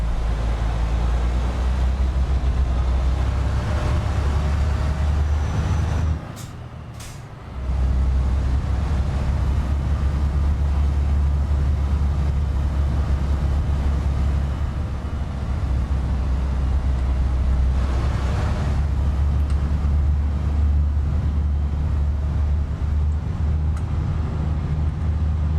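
A loud truck engine drones in Euro Truck Simulator 2, a steady low rumble that briefly drops out for about a second before resuming at the same heavy level and holding to the end.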